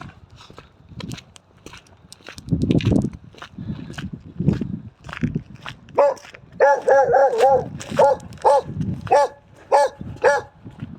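Several dogs bark repeatedly in sharp, rhythmic bursts nearby on a public footpath in Kessingland, with hoof-like thuds and a voice in the background.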